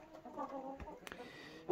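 Laying hens cluck softly in a backyard coop, with a few low, murmuring calls and one sharper note, faint and close, without speech.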